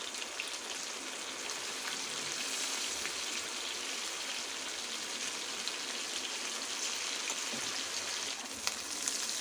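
Pieces of chicken for shawarma sizzle in a hot pan, a steady bright hiss of frying with scattered pops and crackles throughout, with no voices.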